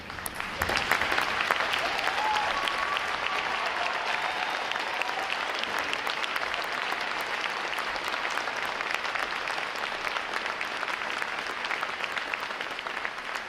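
A room full of people at a U.S. Navy boot camp graduation ceremony applauds veterans, sustained clapping that stays loud and even from start to finish.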